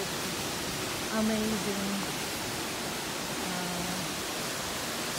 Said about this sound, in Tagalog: one of the tourist spots sa Camiguin is Katibawasan Falls